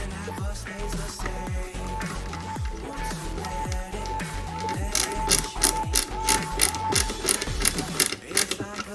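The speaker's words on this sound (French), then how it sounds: "On la fixe ici avec deux vis AG02." AG02 screws driven into the rear floor plate of a 1/8 scale Jaguar E-Type model, close ratcheting clicks from the screwdriver in short repeated bursts over a faint hum, growing louder toward the end.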